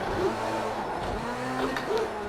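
Rallycross car engine revving hard in a racing video game, a steady loud motor drone with rising and falling pitch sweeps and possible tire squeal, no voices over it.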